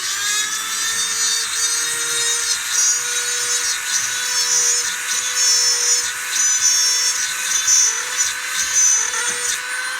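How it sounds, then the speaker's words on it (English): A Dremel 100 rotary tool drills a hole with a diamond tip under water, a steady, high-pitched whine that stays close and constant with slight wavering in load. "I'm using the Dremel 100"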